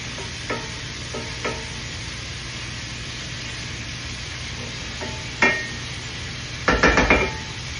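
Salisbury steak patties and onions frying in olive oil in a pan, a steady low sizzle punctuated by occasional clinks and scrapes of a utensil against the pan, with a louder clatter near the end.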